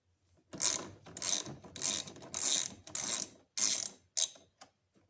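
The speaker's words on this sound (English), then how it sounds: "Loosen this bolt here." A ratchet loosens a bolt on a Land Rover LR2 3.2L engine, giving a run of rapid clicking bursts, about seven strokes in an uneven rhythm, close and fairly loud, with no talk.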